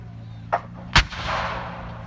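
25-pounder artillery guns firing on a village in Normandy, 1944: a softer distant boom followed by a louder, sharp blast, then a rumbling roll of reverberation fading away.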